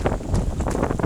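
Strong wind buffeting a boat off the Isle of Arran near the Cock of Arran: a close, loud, gusty rumble of wind battering the microphone, constant through a brief moment.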